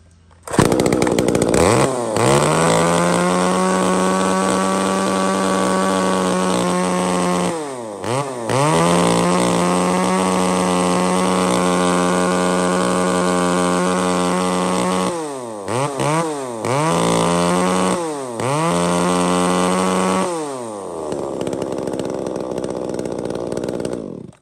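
A used Japanese two-stroke gasoline chainsaw is pull-started and runs loud and close, holding a steady buzzing idle broken by several sharp revs up and down before it cuts off near the end.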